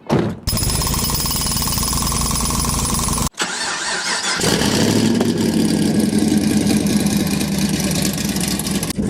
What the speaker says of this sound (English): when we're standing outside this car while it's idling